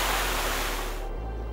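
A broad, steady rush of water like crashing surf or a waterfall, loud and continuous, then dropping off in the upper range near the end.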